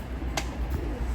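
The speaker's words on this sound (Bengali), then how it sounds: "দেখেন ভিউয়ার্স, কবুতর পেয়ারটা দেখেন" A pair of Pakistani pigeons cooing softly, with a few low coos standing out over a steady background hum.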